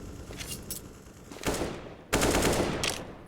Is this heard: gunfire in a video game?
yes